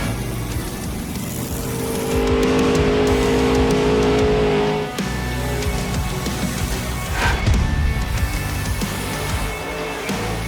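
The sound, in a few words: Monster Jam truck doing donuts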